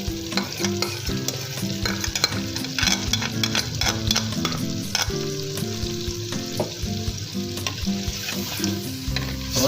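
Yogurt stirred into a sizzling chicken karahi, a loud, continuous frying hiss broken by repeated scraping and clanking of a spoon against the metal pan, close and busy throughout.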